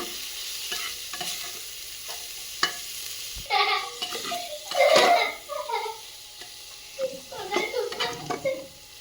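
Spice masala with turmeric and salt is fried and stirred inside a pressure cooker for dry khichuri, with a quiet sizzle under repeated scraping and clinking of a utensil against metal.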